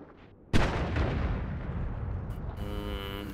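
Wand shots fire in Noita: a sudden loud blast breaks out of near quiet, followed by a long rumbling, crackling decay and a sharp later burst.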